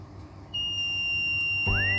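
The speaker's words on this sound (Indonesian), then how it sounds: "alarm ini akan berbunyi untuk mengingatkan kita bahwa air telah penuh" A steady high electronic tone from a water tank level sensor alarm sounds continuously as the tank fills, joined near the end by a second rising tone over a low hum.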